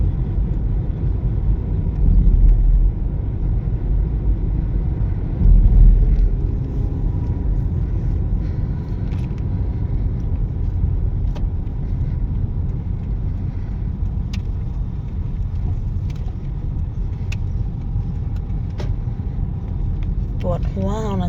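A car heard from inside while driving, giving a steady low rumble of engine and road noise that runs throughout, with people talking over it.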